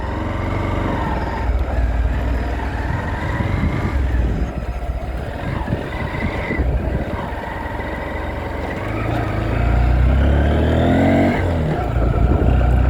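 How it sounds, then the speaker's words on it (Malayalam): A Honda X-Blade BS6 motorcycle with a dual throttle cable on a test ride, its engine pulling steadily under loud wind rush and rising as it accelerates, swelling stronger toward the end. "നമ്മളെ ഈ എക്സ്ബ്ലേഡ് ഒന്ന് ടെസ്റ്റ് റൈഡ് ചെയ്ത് നോക്കി നോക്കാം"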